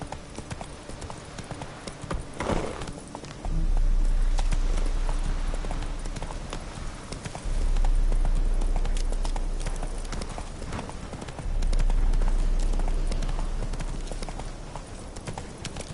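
Galloping horse hooves in the video game Witcher 3 beat in a rapid, steady clip-clop, swelling and easing in repeated runs with low rumbling thuds.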